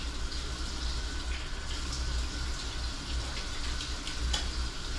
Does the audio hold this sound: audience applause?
no